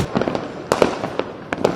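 Firecrackers bursting around Diwali, a rapid irregular string of sharp cracks and pops, loud and close, with a few louder bangs standing out above the crackle.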